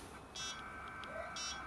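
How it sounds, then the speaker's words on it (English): The small internal speaker of an Atari STE gives faint, short electronic beeps, two brief bursts about a second apart, over a steady hum and background hiss. "You can hear the beeping."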